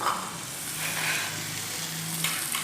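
Chicken, carrots and potatoes for pulao fry in a pot with a steady, dense hiss and crackle, close and fairly loud, with faint stirring movements and a low hum underneath.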